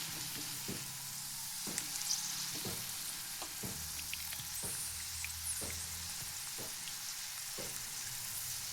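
Okra frying in hot oil in a home kitchen, a steady dense sizzle running throughout with occasional soft scrapes and taps of a utensil stirring the pieces.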